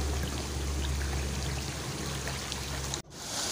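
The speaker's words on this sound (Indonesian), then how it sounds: "Taman Dadap Merah emang dialirin atau dilewatin sebuah aliran sungai kecil seperti ini ya" A small river stream flows swiftly through Taman Dadap Merah park, a steady rushing and trickling wash of water that cuts off abruptly near the end.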